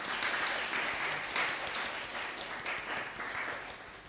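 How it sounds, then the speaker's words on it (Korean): Church congregation at a Korean Sunday worship service applauding to welcome one another, a steady wash of many hands clapping that holds for the full stretch at moderate distance. "우리 옆에 있는 분들 박수로 환영하겠습니다."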